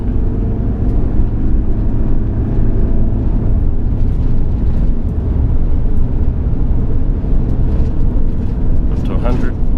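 A Mitsubishi Pajero NT with an automatic gearbox accelerates steadily, its engine droning low and continuous from inside the cabin, with light road rumble underneath.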